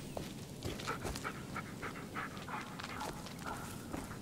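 A dog in the Blair Witch game pants in quick, rhythmic bursts close by, breathy and moderately loud with an occasional soft whine, no talking over it.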